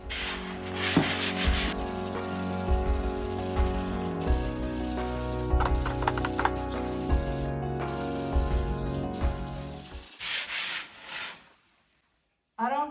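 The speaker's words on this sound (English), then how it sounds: "Just have to sand it and then fill it in." A wall being sanded by hand, with brisk repeated rasping strokes close up and loud over a mechanical hum and music, before a sudden drop to near silence and a brief return.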